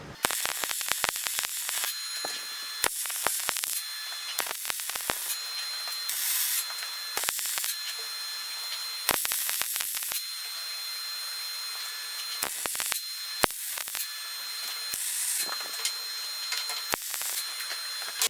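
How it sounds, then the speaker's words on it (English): Car differential gears being welded, a loud sizzling, crackling arc hiss in repeated bursts of a second or two broken by short pauses, close up with no talk. "I'm just going to weld every place in here that you can weld, just to show you all the different places that you can actually weld it solid."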